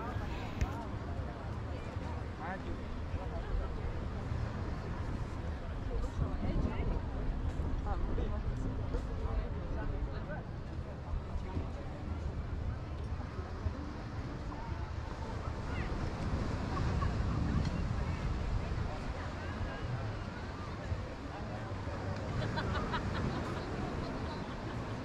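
Steady surf and wind at Muaya Beach in Jimbaran, Bali: a continuous broadband wash of waves with gusty wind rumble on the microphone, unbroken for the whole stretch.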